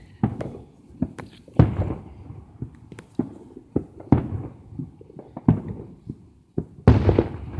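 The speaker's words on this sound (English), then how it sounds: "I'm back with more fireworks." Outdoor fireworks going off in a string of sharp, separate bangs and crackles, some near and loud, others softer, spaced irregularly with brief quiet gaps and a final cluster of bursts.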